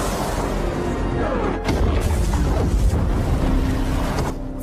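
An explosion in an action film is heard as a deep, rumbling blast with a surge of low boom and crashing debris, set against a dense, loud cinematic soundtrack.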